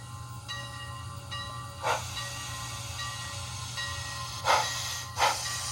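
A TCS WOWsound decoder in a Sunset Santa Fe 1950 class 2-8-0 model steam locomotive gives a steady hum and tone with short sharp steam hiss bursts, and no talk.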